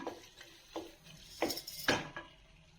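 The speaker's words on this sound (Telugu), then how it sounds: "ఇందులో నేను చికెన్ వేస్తున్నాను దీనంతా బాగా కలుపుకున్నాం" Chicken being stirred with spices in a cooking pot, the spoon giving several soft, irregular scrapes and clinks against the metal at close range, with no voices.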